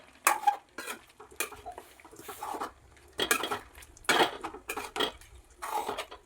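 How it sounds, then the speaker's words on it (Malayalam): A spoon stirring Kerala-style roasted-coconut chicken curry in a pot, with a series of clattering scrapes and knocks against the metal in irregular bursts, close and clear with no talking. "വീണ്ടും ഒന്ന് ഇളക്കിയിട്ട് കൊടുക്കാം."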